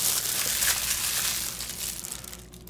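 A plastic vinyl glove crinkles loudly and close up while someone eats an oven-roasted turkey leg, a dense continuous rustle that thins and fades toward the end.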